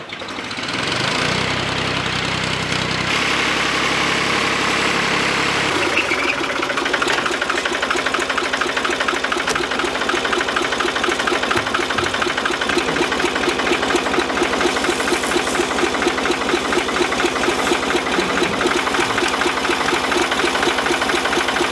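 A tractor engine idles close by with a steady, rapid knocking chug, holding a constant loud level for about twenty seconds with no talking.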